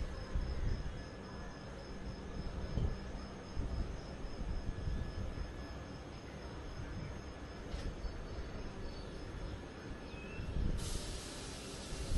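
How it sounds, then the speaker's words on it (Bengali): The Darjeeling Mail departs Bardhaman at night, rumbling along steadily with rolling wheel noise and a faint high whine, heard from inside, with no talking. "অবশেষে ট্রেন ছাড়লো বর্ধমান থেকে।"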